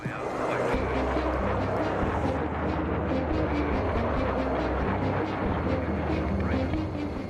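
Airliner in flight with a steady, loud engine drone and low rumble throughout, continuous with no breaks.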